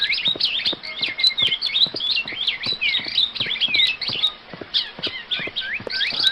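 Small birds chirp and tweet in a rapid, continuous stream of high calls near a village farm field, fairly close and steady over faint background noise.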